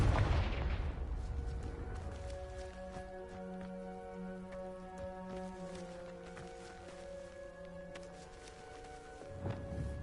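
Fire blast spell explosions in the Hogwarts Legacy video game: a sharp burst at the start, then sustained tonal ringing effects with scattered crackles, and another blast near the end, moderately loud.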